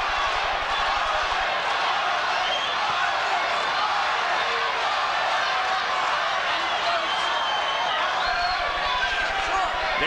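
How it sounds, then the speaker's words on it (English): A boxing crowd at an IBF middleweight title fight between Michael Nunn and Marlon Starling keeps up a steady, dense roar of voices through the whole stretch, with no single chant standing out clearly. "it sounds to me as though some people are chanting Michael and some are chanting Starling"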